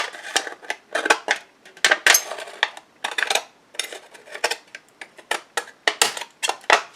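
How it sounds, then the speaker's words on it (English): Shears cutting around an aluminum soda can, giving a close series of sharp metallic snips and crinkles in an irregular rhythm, with brief pauses between cuts. "getting the shears in here. And just continue to just cut that all the way around."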